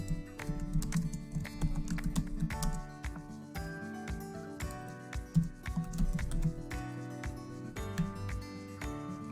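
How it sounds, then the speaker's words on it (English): Steady keyboard typing at a computer while a subject line is entered in an email campaign tool, with quick irregular clicks running throughout over a background of music. "Go ahead and type in your subject line."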